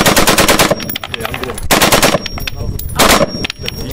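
A gun fires full auto at a Las Vegas shooting range, loud rapid bursts of close gunfire in three strings separated by short pauses.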